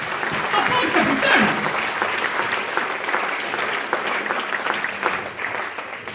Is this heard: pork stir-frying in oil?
no